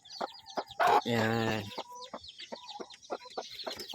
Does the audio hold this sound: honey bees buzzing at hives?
no